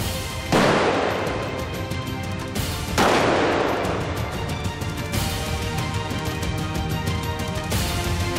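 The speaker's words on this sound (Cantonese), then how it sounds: "Lucky， 開槍啦 ，Lucky！" Gunfire in a Hong Kong police drama trailer: two heavy booming shots a few seconds apart, each ringing out over a tense musical score, with rapid clicks between them and no talk.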